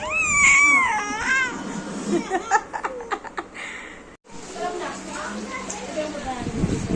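A child cries and wails in short bursts inside a busy home, mixed with giggling and laughter from others nearby and overlapping chatter.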